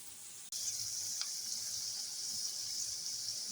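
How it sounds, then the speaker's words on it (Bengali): Onions with a little salt frying in oil in a pan, a steady soft sizzle after a short break at the start, with a faint tap or click early on and no talking. "পেঁয়াজটা ভেজে নিচ্ছি তেলের ভিতরে।"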